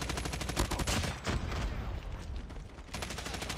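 Rapid gunfire from a Call of Duty match, a dense, loud stream of shots with a sniper in the fight, running continuously with a brief lull in the middle before picking up again.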